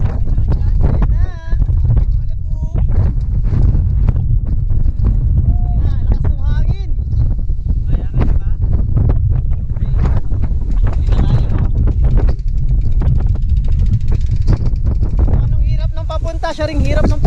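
Strong wind buffets the microphone as a low, constant roar on a rough outdoor trail ride, with people talking over it throughout.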